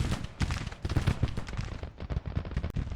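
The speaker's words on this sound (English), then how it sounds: "these guns right here under Lawler are going to be doing some good work firing at rebel troops" Civil War cannon fire at troops in Grand Tactician, a rapid, dense string of gunfire bursts and thumps over a few seconds, close and continuous, with no speech.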